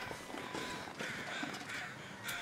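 Several crows caw in bursts in the video game The Long Dark, harsh repeated calls spaced across the moment, moderately distant over a faint background.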